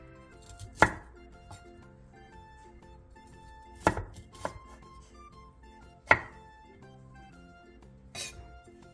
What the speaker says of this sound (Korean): 브로콜리 2분의 1개를 한 입에 먹기 좋은 크기로 잘라주세요.